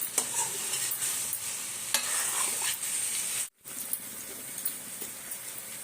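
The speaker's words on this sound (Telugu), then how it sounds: "బాగా వేయించుకోవాలి" Chicken frying in a pan, a constant close sizzle with repeated scraping and stirring strokes and a brief drop to silence midway before the sizzle resumes; no talking.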